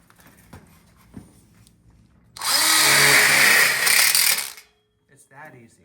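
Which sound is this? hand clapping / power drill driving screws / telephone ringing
power drill driving screws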